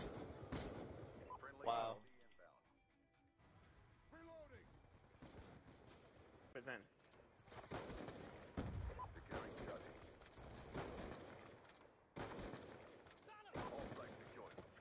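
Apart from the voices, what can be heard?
gunfire in a shooter video game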